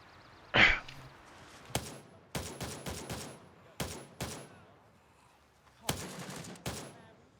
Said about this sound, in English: No, these are all fucking people shooting at me.